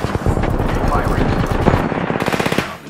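Rapid automatic gunfire in a shooter game, a loud, steady stream of close shots rattling for about three seconds, with a voice faintly underneath.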